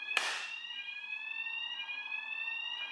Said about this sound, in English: genuinely, there's an alarm.